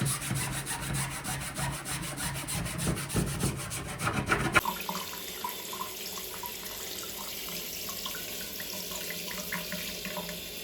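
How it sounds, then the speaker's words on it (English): Water running from a household leak: a steady gushing trickle like a tap over a sink, with rubbing and handling noises, then a quieter flow after an abrupt change partway through, close by with no voices. "See how water runs on the other side?"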